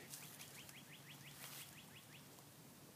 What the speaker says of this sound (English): I think that's a robin.